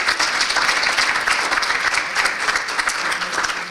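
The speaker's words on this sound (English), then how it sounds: "a round of applause for all these chambers" An audience at a chamber of commerce meeting gives a round of applause, dense steady clapping filling the room from start to finish.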